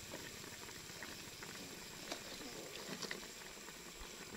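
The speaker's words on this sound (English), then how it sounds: "I'll put in the onions" Onions go into a pot of pork bone soup that keeps bubbling at a low, continuous simmer, with soft popping and hissing.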